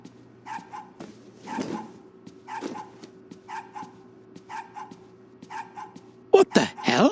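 A dog barks over and over in the video game The Safe Place, sharp paired yelps repeating at a steady rhythm over a low ambient hum, before a louder burst of other sound at the end.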